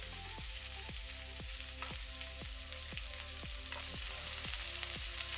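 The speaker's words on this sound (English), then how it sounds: "you can hear that sizzling away" Sausages sizzle and crackle steadily in a frying pan, a continuous close hiss with faint popping, quiet and without voices.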